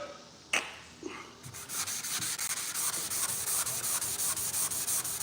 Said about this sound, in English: So I'll go ahead and finish water sanding the rest of the hood